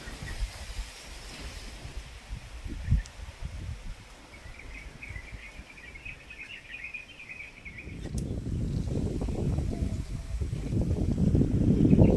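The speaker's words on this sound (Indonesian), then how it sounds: "Ya angin kencang." Strong wind on Mount Merapi, the volcano in Indonesia, blowing as a steady rushing roar that swells louder and more turbulent in the second half, with no other sounds standing out.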